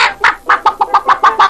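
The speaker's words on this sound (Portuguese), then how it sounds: "Vou pôr deste lado uma galinha velha" An old cartoon hen clucks in a quick run of about eight sharp, bright clucks, loud and close with no talk.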